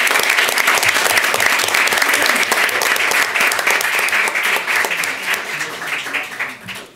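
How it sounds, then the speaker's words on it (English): A city council meeting audience gives employees a sustained round of applause, dense steady clapping filling the room and tapering toward the end. "If we could give all these employees a round of applause"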